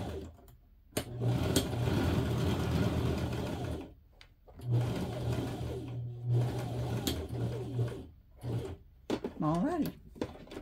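A sewing machine stitches a fabric scrunchie in bursts of fast, steady mechanical whirring, stopping and starting between runs. A person talks quietly through the pauses.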